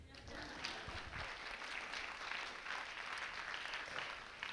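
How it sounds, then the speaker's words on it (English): Lecture audience at a writers festival applauding, a dense continuous wash of many hands clapping heard from some distance at low level for several seconds. "round of applause, feel free."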